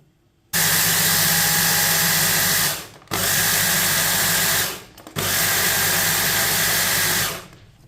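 An electric grinder pulverizes flaxseed and sesame seeds in three loud, steady whirring runs, each lasting a couple of seconds and separated by brief pauses.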